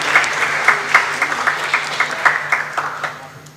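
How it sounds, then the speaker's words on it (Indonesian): A seated audience applauds at a memorandum signing ceremony between Indonesia's election commission, the national cyber agency and Garuda Indonesia. The close, fairly loud clapping has a steady pulse and tapers slightly toward the end. "Boleh beri tepuk tangan yang meriah Bapak Ibu."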